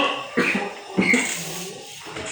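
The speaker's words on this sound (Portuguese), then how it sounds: "Essa tosse veio num momento inapropriado mesmo" A man coughs during an adult Bible class, with two sharp, close coughs about half a second apart, followed by a rougher throat-clearing sound.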